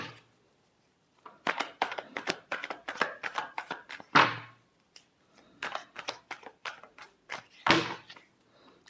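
Tarot cards being shuffled by hand in several brisk bursts of riffling and tapping, close and fairly quiet, with two louder sharp slaps of the deck and no talking.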